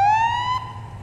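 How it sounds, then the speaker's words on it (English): Police car siren in the Police Simulator video game, a single loud, rising wail that cuts off abruptly partway through, leaving a low engine hum underneath. "That's whenever it changes to the wet siren sound."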